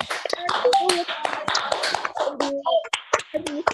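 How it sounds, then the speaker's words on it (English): Webinar participants clap virtually over an online call, a scattered burst of hand claps and taps mixed with overlapping voices. "Everybody, I want to hear claps."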